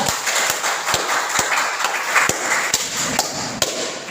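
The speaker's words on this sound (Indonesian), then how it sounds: "Silakan ada tepuk tangan dulu" Classroom applause from students before a presentation in a school teaching session, a dense wash of clapping with a few sharper, louder claps standing out, steady across the whole stretch.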